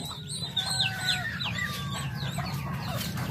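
Backyard pet chickens cluck steadily in a flock kept alongside turkeys and ducks, several birds overlapping in quick, chattering calls close by with no talking.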